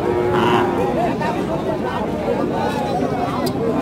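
A cow moos loudly at a busy rural cattle market where heifers are sold at Kakan Haat in Rajshahi, with a crowd chattering throughout.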